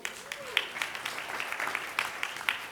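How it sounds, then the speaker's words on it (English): A conference audience at a good-governance celebration in Dubai gives a faint, sparse round of applause, scattered claps heard from a distance with a low murmur underneath. "a big round of applause to the audience also"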